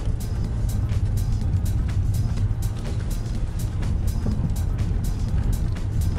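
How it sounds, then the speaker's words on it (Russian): A 2019 Kia Optima GT Line drives over rough bumps, with a low, steady road and engine rumble beneath sharp, repeated knocks and thumps from the suspension and cabin. "И самое главное, что чувствуется мощь мотора, то есть мощь двигателя."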